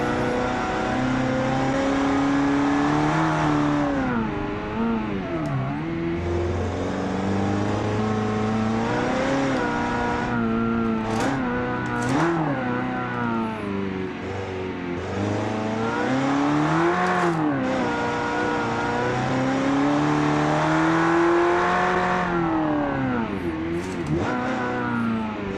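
A car engine in the rally game City Streets Rally Italia revs continuously, its pitch climbing and dropping through gear changes for the whole stretch, loud and steady with no talk.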